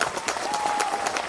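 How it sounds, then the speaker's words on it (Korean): Audience at a Buddhist temple eye-opening ceremony gives a round of thankful applause, dense, even clapping that fills the space continuously from start to finish. "감사의 박수로 마음을 전해드리면 어떨까 합니다"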